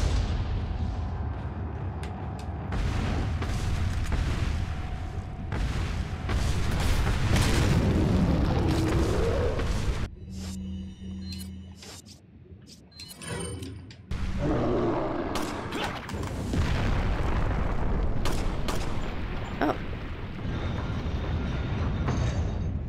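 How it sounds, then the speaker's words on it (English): Rocket launcher explosions in Resident Evil 4, loud booming blasts with rumbling aftermath, a brief quieter gap midway, then more heavy detonations and rumble. "Rocket launcher worked really well."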